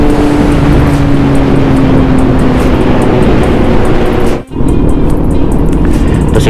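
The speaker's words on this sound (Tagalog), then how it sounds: "Grabe, lalakas ng mga motor nila." Loud, continuous engine roar from vehicles at an outdoor car meet at Deerfoot City, a dense steady drone with a brief dip near the end, close and dominant with no talk.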